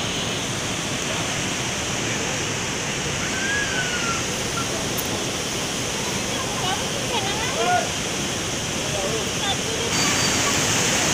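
A river flows past a small Saraswati temple on an Indian roadside, making a loud, continuous rushing wash of water that fills the whole stretch without a break.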